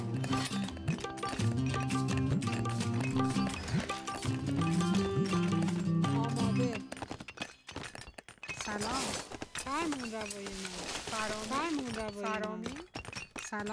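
Horses in the strategy game 0 A.D., playing as the Persians, clip-clop and whinny among other in-game sounds, with someone talking over much of it.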